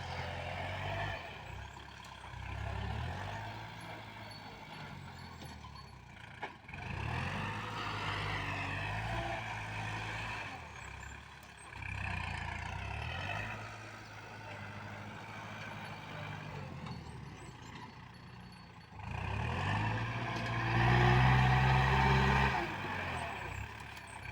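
A heavy diesel engine of a Kubota L4708 tractor pushing soil to fill a pond rumbles steadily and revs up in surges, loudest near the end, with mechanical clanking over a continuous low drone.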